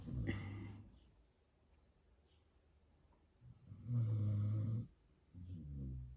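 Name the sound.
snoring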